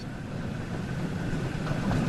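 A steam locomotive, a Class 8F in Train Sim World 5, slowing under its combination brake toward a gentle stop, with a steady low rumble and grinding hiss that builds slightly over about two seconds and no speech.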